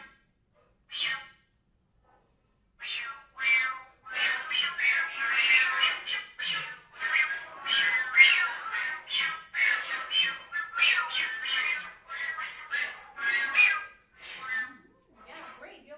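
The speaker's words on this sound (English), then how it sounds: "Love the jet whistle." A flute played with the jet whistle technique in a masterclass room: a run of bright, breathy airy bursts and squawk-like tones in quick irregular succession after a short opening note, fairly close and continuous, with no talk over it.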